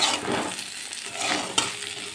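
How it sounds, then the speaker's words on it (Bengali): Cauliflower pieces frying with salt are stirred around a pan, giving a close, steady sizzle with scraping swells and a sharp clink near the end. "নেড়েচেড়ে একটু নুনটা মিশিয়ে নিয়ে কিছুক্ষণ আরও ভেজে নেব।"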